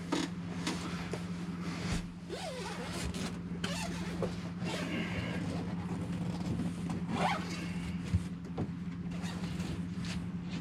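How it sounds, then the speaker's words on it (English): A zipper on a foam mattress cover is worked open with a wire tie, giving faint, intermittent short zipping pulls against a low steady hum in a quiet room. "pull the zipper out."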